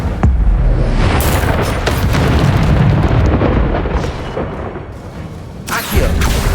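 A fiery spell burst in the video game Hogwarts Legacy, loud rumbling booms and crackling blasts in dense, continuous combat noise, with a fresh burst near the end.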